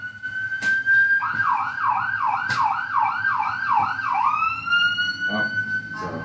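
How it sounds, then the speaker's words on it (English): An ambulance siren wails in fast rising-and-falling cycles, loud and steady, then shifts to a lower, flatter tone as it goes by. "It was an ambulance."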